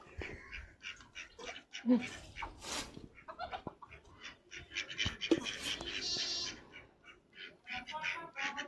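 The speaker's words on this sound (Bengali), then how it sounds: "এই দেখো মুরগিগুলো এখানে করছে" Chickens cluck and squawk in short, scattered bursts near a village house, close by and fairly quiet, with some other farmyard bird calls mixed in.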